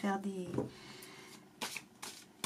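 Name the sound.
shuffling tarot cards for a reading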